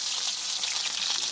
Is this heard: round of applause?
no